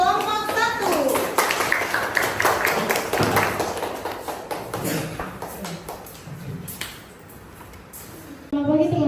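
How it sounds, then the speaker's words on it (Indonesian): Classmates clap for a student group about to give a presentation in a school lesson, a scattered burst of hand claps that fades out, with children's voices chattering throughout. "Berikan tepuk tangan untuk kelompok 1."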